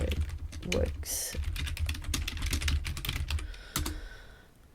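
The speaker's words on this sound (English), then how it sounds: "I'm just going to type what I see in the book in front of me" Someone types on a computer keyboard while testing C string code during a programming lecture. Rapid, close key clicks come in uneven bursts under a man's speech, then thin out and stop near the end.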